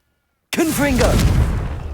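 In Hogwarts Legacy, an explosive Confringo spell bursts from sudden silence into a loud, rumbling blast while a voice calls out over it.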